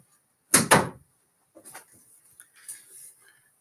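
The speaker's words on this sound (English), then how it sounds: "I'm just going to close my door 1 second." A classroom door swings shut with one loud, close thud and rattle, followed by softer shuffling and small knocks in an otherwise quiet room.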